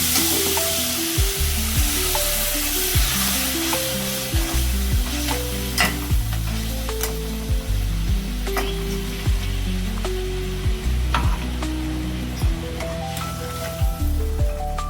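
Olive chutney sizzles in a pan after the olive boiling water is poured in. The hiss and bubbling are loud and close, with a regular rhythm of spoon stirs and scrapes knocking against the pan throughout.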